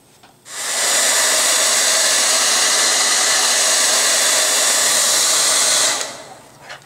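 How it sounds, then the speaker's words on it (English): A hair dryer blows loudly and steadily for several seconds with a strong airy hiss while heating a polymer, then switches off. "nice and hot to the touch with the hair dryer."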